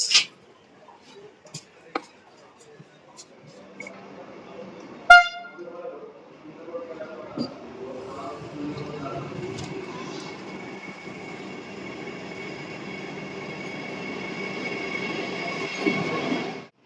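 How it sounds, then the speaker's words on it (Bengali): A Vande Bharat Express arrives from NJP, starting with sharp clanks and a short horn blast, then a rising rumble of rolling wheels that holds steady, fairly distant. "তো তোমরা দেখতে পেলে বন্দে ভারত এক্সপ্রেস এনজিপি থেকে আসছে।"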